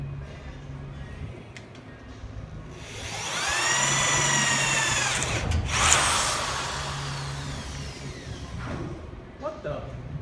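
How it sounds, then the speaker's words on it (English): A Milwaukee power drill spins up into a loud, rising whine, holds for a few seconds, then winds back down over steady background noise. "Y'all probably can't hear me over this drill"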